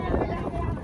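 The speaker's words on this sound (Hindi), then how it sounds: "बड़ निक हवा चल रहा है गरम से।" Warm wind blows across an outdoor temple crowd, a constant broad rushing buffet on the microphone under faint voices for under a second.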